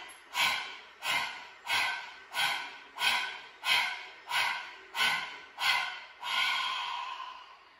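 A person pants in quick, evenly spaced breaths, nine or ten sharp huffs in a row, close and clear, imitating a panting dog.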